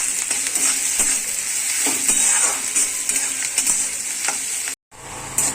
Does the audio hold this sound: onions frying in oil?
yes